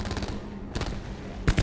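Gunfire in a first-person shooter game, a few loud broadband bursts: a rattling volley at the start, another around the middle, and a sharp close shot at the end, with a low background hum between.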